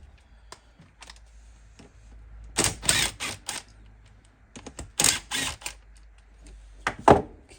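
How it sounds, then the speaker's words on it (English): Two 7/16 bolts being undone on a Hillman Imp gear stick: scattered faint ticks and clicks, then two bursts of rapid close metallic ratcheting, with a final sharp clatter. "I'm going to take out these 2 7/16 bolts"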